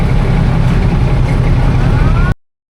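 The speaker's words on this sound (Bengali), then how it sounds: "আমাদের লঞ্চ এখনই ছেড়ে দিচ্ছে।" A passenger river launch departs Narsingdi's new launch ghat, its heavy engine a loud, steady low rumble that drones on for over two seconds and then cuts off, with no talking.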